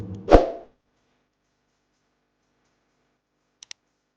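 Computer mouse clicking a login button on a monitoring web page: one sharp, close click, then a long silence and two small, quick clicks near the end.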